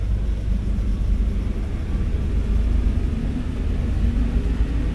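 Class 314 electric train in Train Sim World 2 pulling out of Glasgow Central, a steady low rumble and motor drone that holds even and fairly loud throughout, with no voices.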